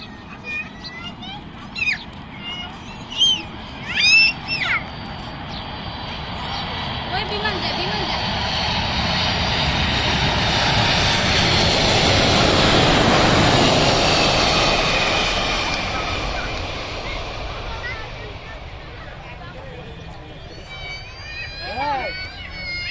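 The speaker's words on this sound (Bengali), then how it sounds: "ঢাকায় অবতরণের জন্য এগিয়ে আসছে ক্যাথে প্যাসিফিক কার্গো বিমান বোয়িং 747।" A Cathay Pacific Boeing 747 cargo plane on approach to land at Dhaka, heard from a crowded roadside spot in Uttara: a jet roar swells, peaks loud overhead midway, then fades. People's voices and shouts come before and after it.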